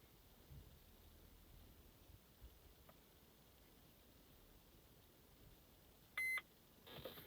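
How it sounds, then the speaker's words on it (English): A Mercedes Sprinter van dashboard gives a single short electronic beep after a button is held down, heard near the end over quiet cabin background noise. "Now it's made the beep"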